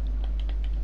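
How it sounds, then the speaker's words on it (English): Keys clatter on a computer keyboard during an online survival game stream, a quick run of soft, irregular clicks close by with steady low hum underneath and no voices. "What are you typing?"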